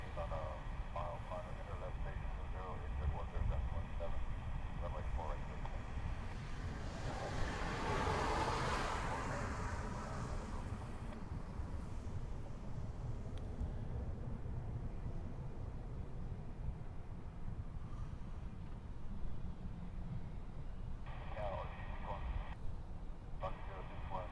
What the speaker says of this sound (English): I believe this is a Royal Australian Air Force. That's an E7.